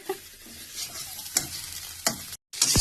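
Egg and chickpeas frying together in a pan, with a close sizzle punctuated by a few sharp spatula strokes against the pan, a short dead gap, then a louder burst of frying.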